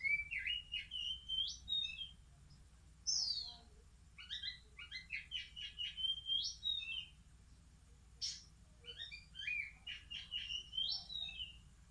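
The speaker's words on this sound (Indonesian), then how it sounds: "Ini yang betina ini kacer trotol betina, dan yang ini kacer trotol jantan." Three-week-old magpie robin chicks (kacer trotol) chirp in repeated bursts of high, twittering calls, fairly close, alone over a low background hum.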